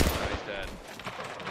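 Gunfire in the mobile battle royale game Apex Legends Mobile, with a loud burst of shots at the start that fades into scattered, fainter shots and game noise.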